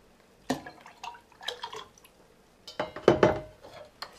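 Water is poured into a blender holding torn paper, a mix of about 95% water to 5% paper, making several short splashing bursts close by.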